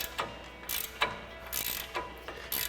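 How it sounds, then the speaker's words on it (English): Ratchet wrench loosening a stud nut on a Jeep Gladiator JT steering linkage, a 21mm ratchet working against a 10mm wrench holding the stud: bursts of close, crisp clicking come in several evenly spaced pulls, with no talk. "you want to grab your 21mm ratchet wrench and a 10mm wrench"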